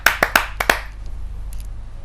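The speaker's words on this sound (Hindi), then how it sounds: "जोरदार तालियों से आमंत्रित कीजिए" A handful of sharp, separate hand claps, about five in quick succession, welcome a poet at a Hindi poetry gathering, then fade into near quiet with a couple of faint taps.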